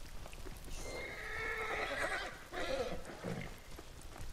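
A horse in the Ghost of Tsushima video game whinnies loudly in a long, drawn-out neigh, followed by a second shorter snort and a few soft hoof thuds, with no talking.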